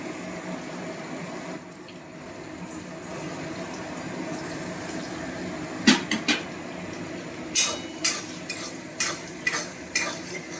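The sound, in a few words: spices sizzling and being stirred in hot oil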